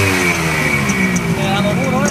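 A Suzuki AX100 two-stroke motorcycle engine revs up close and loud, its buzzing tone climbing in pitch toward the end.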